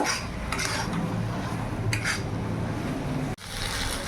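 Fried pointed gourd pieces being stirred into a spice paste in a pan on the stove, giving steady close scraping and clinking of a utensil against the pan under a low sizzle, with no talking.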